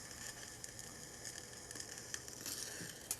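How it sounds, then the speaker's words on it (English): Faint, steady sizzling and hissing of boiling water inside a soldered pipe fitting, with occasional small pops and crackles. "Listening carefully reveals that Rob also has boiling water inside his fitting."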